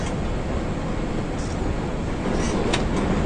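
Steady, loud broadband rumble of a moving train in the PC horror game Demo Friend, a constant rolling drone that runs the whole time with brief higher squeaks near the end and no talk.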